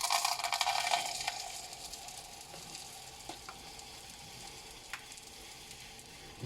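Pink Epsom salt being scooped from a soft packet, a faint grainy rustle and crinkle near the start that fades into quiet, with a few small ticks after.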